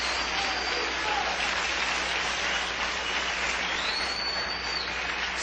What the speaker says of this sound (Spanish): démosle un aplauso al reino